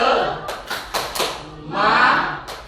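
Children perform the Indonesian 'tepuk semangat' rhythmic clapping chant in a classroom: a short burst of sharp, patterned claps mixed with voices chanting along, close and loud.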